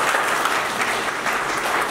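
Sustained applause from a crowd at a political rally in Nepal, steady and fairly loud for the whole stretch, with no speech standing out.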